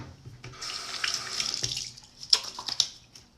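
Water runs from a bathroom sink tap and splashes as hands wet a face, a close hiss of flow broken by a few sharp splashes and drips near the end.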